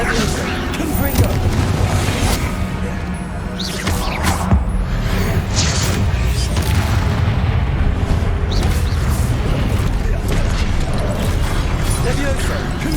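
Confringo blasting spells exploding in Hogwarts Legacy combat, repeated booms and whooshes in quick succession alongside other spell effects, with a voice speaking over them.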